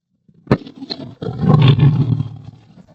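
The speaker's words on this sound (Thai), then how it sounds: "เสียงคำรามของคำรน สะท้อนทั้งผืนป่า" A tiger roar as a forest sound effect: a sharp opening snarl, then a long rumbling roar that swells and fades over about two seconds, loud and close with no talk.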